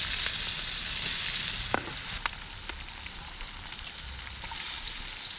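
Eggs sizzle and crackle in hot coconut oil in a pan, a steady bright frying hiss with a few sharp pops and clicks from a utensil, and no one talking.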